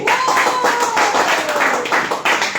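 A raffle-draw audience claps steadily for a lucky prize winner, the broad crackling applause sustained and fairly loud with a faint voice tone running underneath.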